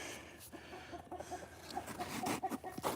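Backyard chickens and roosters cluck and murmur close by in a busy, irregular chatter that grows a little louder toward the end, with rustling between the calls.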